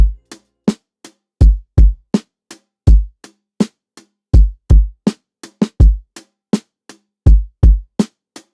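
Programmed drum loop playing a basic pattern, with punchy kick and snare hits interleaved with crisp short hi-hat ticks in a steady groove, dry and isolated with no voices.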